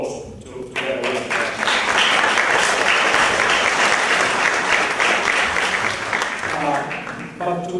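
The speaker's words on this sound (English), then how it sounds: "we should all give our applause to their work" Audience applause at a European museum organisations' annual conference, loud, dense clapping from a sizeable crowd that rises quickly and holds steady for several seconds before thinning, with speech heard briefly at the start and end.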